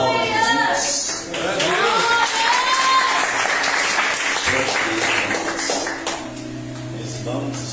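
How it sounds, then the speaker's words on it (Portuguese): A church congregation applauds during an evangelical sermon, a dense, sustained wash of clapping with cheering and voices mixed in, loud and continuous for several seconds before easing off. "aplauda Jesus"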